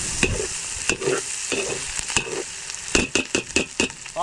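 Chili peppers fry in a pan for Bicol express, with a steady sizzle broken by repeated stirring scrapes and clatters that come faster toward the end.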